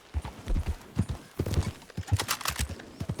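Horse hooves clip-clopping in a video game, rapid uneven clops with an occasional whinny, close and clear over faint game ambience.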